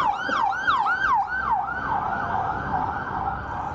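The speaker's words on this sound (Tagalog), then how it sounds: "padaanin muna natin ang ambulansya" An ambulance siren wails close by while a cyclist waits on a bike, fast repeating rising-and-falling sweeps that are loud at first, then smooth out and fade slightly as it passes.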